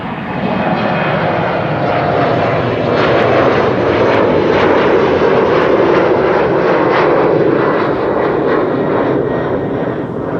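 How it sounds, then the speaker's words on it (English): Embraer regional jets of German Airways, flying for KLM Cityhopper, depart Amsterdam Schiphol with a loud, steady engine roar that swells slightly midway and holds throughout, with no voices. "More Embraers from German Airways, operating on behalf of KLM City Hopper."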